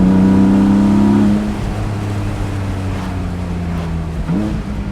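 Porsche 718 Boxster GTS 4.0 flat-six engine under way, a loud steady drone that drops in pitch as revs ease, then a brief rising blip near the end; no talk.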